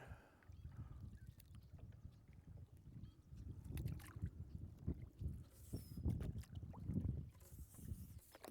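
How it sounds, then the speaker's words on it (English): Canoe paddling into the wind and against the current on Geisel Creek, soft rhythmic paddle strokes and water swishes against low wind rumble, close and quiet. "We're canoeing into the wind and up the current of Geisel Creek"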